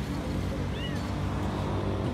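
A cat meows in the background of a busy Karachi restaurant at dinner, a brief faint call rising over steady crowd murmur and room noise.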